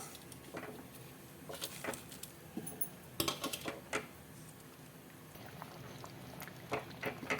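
Water comes to a rolling boil in a pot on a home stove as red poha flour is stirred in, with soft, scattered bubbling pops and patter, faint and close, with no speech.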